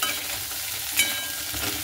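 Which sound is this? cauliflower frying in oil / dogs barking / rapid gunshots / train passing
cauliflower frying in oil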